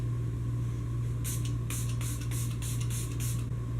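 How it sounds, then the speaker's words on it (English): A quick series of about six short spray bursts of a makeup setting spray in a steady rhythm, close and crisp, over a constant low electrical hum. "Using the Milani Make It Last Setting Spray."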